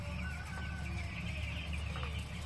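Broiler chickens in a poultry farm shed cluck and murmur continuously, many birds blending into a dense, close flock chatter with a low background hum.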